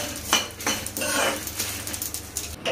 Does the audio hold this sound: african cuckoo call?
no